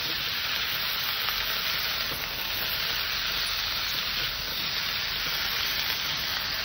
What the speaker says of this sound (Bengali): এবার সবজিটাকে সুন্দর করে আবার কষবো।